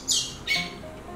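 A baby bird inside a greenhouse squawks twice in quick succession, close and fairly loud, each cry a short harsh burst followed by quieter background.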